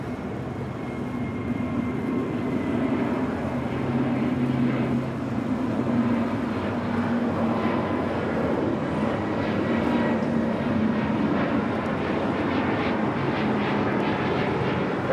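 A Boeing 787 Dreamliner bound for Tokyo Narita takes off from the south side of LAX, its engines a loud, steady roar that holds throughout with a low rumbling hum beneath.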